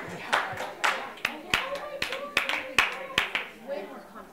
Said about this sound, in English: If you can hear my voice, clap 3 times.